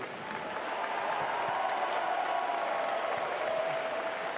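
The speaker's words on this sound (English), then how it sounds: "I'd like to welcome a round of applause for Don Bosey." Applause fills the hall at the opening ceremonies of a robotics district competition as Don Bosey is welcomed. Scattered clapping swells quickly into a broad, sustained roar of hands that stays strong to the end.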